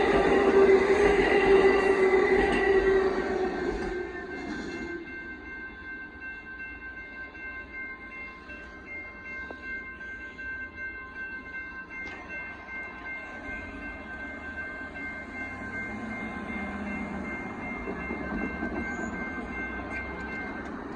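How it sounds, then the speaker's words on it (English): An Amtrak Texas Eagle 22 passenger train passes in a video game, a steady rail rumble with wheel squeal and sustained tonal whine over about twenty seconds. No talking. "There goes Amtrak Texas Eagles 22."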